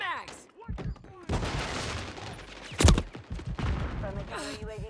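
Gunfire in Call of Duty: Modern Warfare 3, a sharp close burst of shots standing out midway over a busy battlefield bed of scattered shooting and shouted voice lines.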